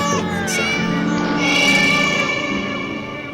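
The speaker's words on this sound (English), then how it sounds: "Sad meow." A cat gives a drawn-out, mournful meow, close and loud, its wavering cry filling the moment with no other sound around it.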